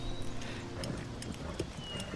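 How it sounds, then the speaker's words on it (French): Horse hooves clip-clop at a steady walking rhythm, close and moderately loud, over a low background hum with a brief whinny-like tone. "Quel magnifique cheval."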